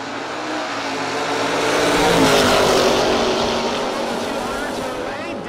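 At a no box drag racing event, a Camaro and an Oldsmobile roar down the strip, a loud sustained engine drone that swells and fades as the cars pass, with a track announcer speaking.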